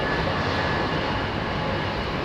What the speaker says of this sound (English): A330neo, ladies and gentlemen.